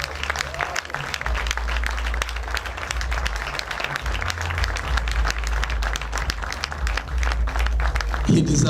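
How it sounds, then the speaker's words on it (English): Audience applause at the unveiling of ExCEL 360 Plus, following a talk by Rev. Sunday Folayan. It plays as a steady, dense wash of clapping across the whole stretch, with a low rumble and some voices underneath. "He deserves another round of applause,"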